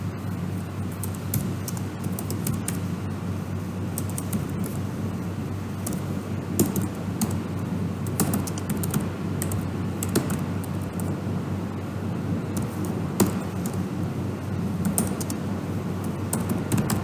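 Computer keyboard keys click irregularly as code is typed, in quick light taps with occasional louder strikes over a steady background hum, close up and without speech.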